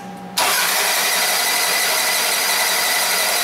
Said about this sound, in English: Just want you guys to listen to the sound of the engine while it's cranking.